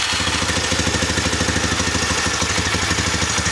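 A Honda Recon 250 ATV engine idles quietly and steadily, its low, even mechanical rumble running without pause from start to finish.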